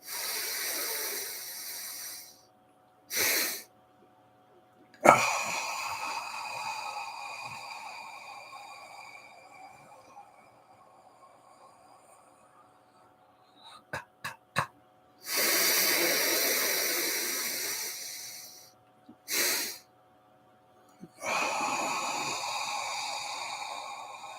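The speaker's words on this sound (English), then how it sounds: "Inhale as much as you can, and then even a second shot in." Several long, deep breaths drawn in and released, each a loud airy rush, with a second shorter inhale stacked on top of a full one, spaced apart by quiet pauses.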